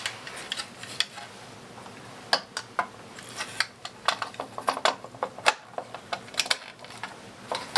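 A sewing machine with a needle fitted runs a stitching test, giving a close, uneven mechanical ticking and clatter in short bursts and pauses.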